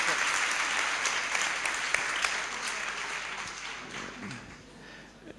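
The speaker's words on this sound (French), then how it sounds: "Merci pour vos applaudissements." Conference audience applauding in a hall, a dense, steady wash of many hands clapping that fades slightly toward the end.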